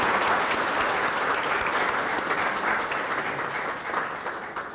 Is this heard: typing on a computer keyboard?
no